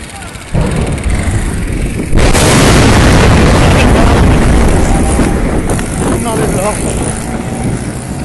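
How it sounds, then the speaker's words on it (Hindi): A loud, sudden LPG gas cylinder blast bursts out over a roaring fire and crowd noise at Shahdara Morh, Lahore, followed by sustained rumbling and shouting voices nearby. "धमाके शाहदरा मोड़ पे"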